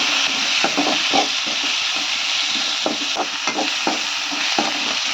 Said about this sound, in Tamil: அதையும் போட்டுக்கிறேன் போட்டு நல்லா வதக்கிக்கணும்